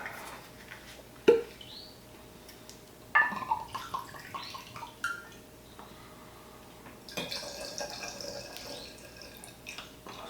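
George Dickel 13-year Bottled in Bond whiskey is poured into glasses in a few short, quiet splashes, with faint glass clinks between the pours.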